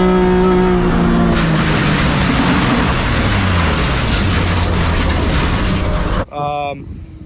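A BMW E36 race car with an S54 engine drives hard on the Big Willow track, its engine loud and close as it shifts and revs, ending with an abrupt cut to a brief separate engine note.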